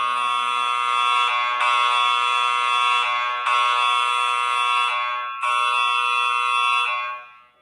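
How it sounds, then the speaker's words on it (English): A fire alarm rings loud and near in a harsh buzzing tone, sounding in long continuous blasts separated by brief gaps before cutting off at the end. "the next day, the fire alarm rang again"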